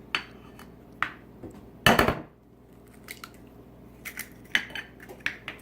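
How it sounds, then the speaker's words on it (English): Two eggs are cracked against a bowl, giving sharp isolated taps and a brief louder crack with some shell rattle in a quiet kitchen. "So you have your 2 eggs, crack them"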